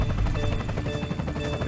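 A helicopter passes overhead in a racing video game after a crash-mode pileup, a loud, steady rotor chop with a rhythmic thumping pulse, close and unbroken for under two seconds.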